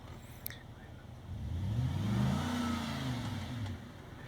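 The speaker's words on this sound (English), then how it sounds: "This is a Ford Raptor with 35-inch tires, and it cannot manage to get up out of these ruts to go around the rocks" A Ford Raptor on 35-inch tires revs hard while stuck in muddy ruts below rocks, the engine note rising and holding steady for a few seconds after a brief quiet start, fairly close and alone.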